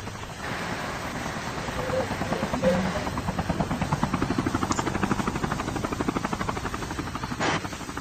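A helicopter flying in the mobile game Call of Duty Mobile, its loud, steady rotor thrum pulsing continuously and close throughout, with a brief higher whine near the end.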